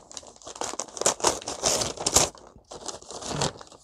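Crinkling of wrapping around a basket-shaped crochet gift, bursts of crisp rustling crackle in several close, loud handfuls with short pauses between.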